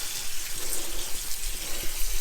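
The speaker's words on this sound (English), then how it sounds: "So we're gonna add some water to the berries" Water gushes steadily from a tap into a bucket of freshly picked Saskatoon berries for washing, a close, continuous splashing rush with no talking.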